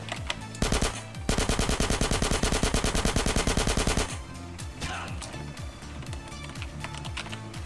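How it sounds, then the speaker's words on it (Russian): A fast, steady machine-gun burst rattles in the GTA San Andreas multiplayer video game, loud and evenly spaced for about three seconds, then gives way to scattered shots and lower engine-like game noise. "Откуда стреляют-то?"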